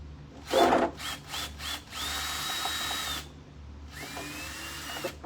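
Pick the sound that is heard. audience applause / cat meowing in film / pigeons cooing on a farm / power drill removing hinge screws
power drill removing hinge screws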